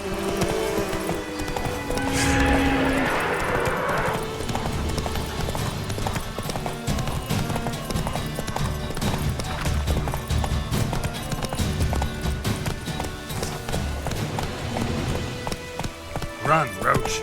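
Roach, the horse in The Witcher 3, gallops with a rapid, steady clip-clop of hooves, close and continuous, under game speech and background music.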